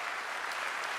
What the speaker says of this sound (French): il mérite votre respect et surtout vos applaudissements